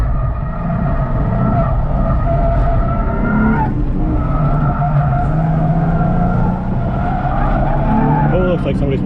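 A car spins out at Lime Rock track day, a modified-car event, with a long sustained tire skid and engine roar running loud and continuous throughout, a faint voice briefly heard beneath.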